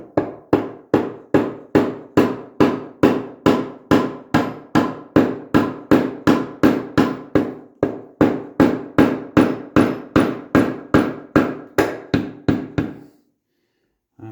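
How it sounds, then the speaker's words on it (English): A mallet tapping a flange into place on a Triumph TR6 gearbox during a rebuild: a long, steady run of about thirty close, firm knocks in even rhythm, then silence, with no talking. "A mallet."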